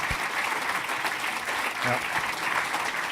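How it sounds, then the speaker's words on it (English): An audience at a zero emission HGV and infrastructure summit breaks into a steady round of applause, dense even clapping throughout, with a brief voice heard over it. "round of applause"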